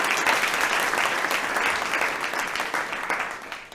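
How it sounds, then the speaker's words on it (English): A large audience applauds the panelists at an evening panel discussion and mixer on inclusivity in the outdoors at OSU Cascades, with dense, steady clapping that stays loud and fills the whole room from start to finish. "let's give a huge round of applause for our incredible panelists that are here with us this evening."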